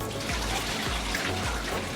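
Running water pours steadily while food is rinsed of vinegar in a kitchen, a continuous loud splashing stream with soft irregular sloshes.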